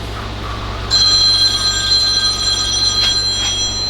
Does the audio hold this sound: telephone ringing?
yes